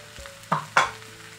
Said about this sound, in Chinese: 再炒一下把酸菜炒香。